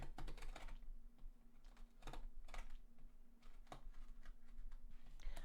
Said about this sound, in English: I'm cutting up the Qanba branded tape right across here and the sides.